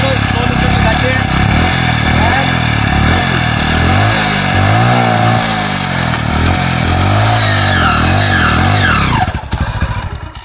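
An old model motorcycle engine revs hard in second gear and struggles to pick up speed. The loud, steady roar rises and falls in pitch and fades out at the end.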